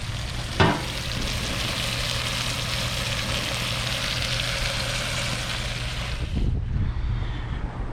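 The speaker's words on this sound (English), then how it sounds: "I'm going to start browning the meat." Ground beef browning in a frying pan for smoked queso dip, a steady close sizzle with a sharp clank early on and stirring scrapes near the end.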